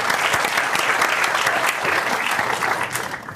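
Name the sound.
audience applause for Jonas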